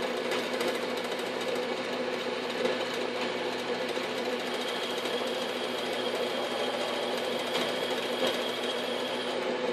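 A South Bend 9 x 24 workshop lathe opens up a hole with a 1/2 inch drill, giving a continuous, steady whirring and grinding hum at even loudness throughout, heard alone without speech.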